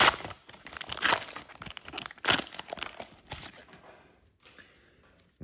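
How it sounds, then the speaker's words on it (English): A 1989 Upper Deck baseball card pack being torn open, close crinkling and ripping of foil wrapper in several short bursts, fading to quiet rustling at the end. "Let's open the pack and see how many of the high number cards there are"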